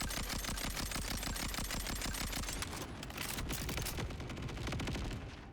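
Rapid automatic gunfire from a weapon in the Borderlands 4 video game, a fast steady stream of loud shots followed by denser bursting fire.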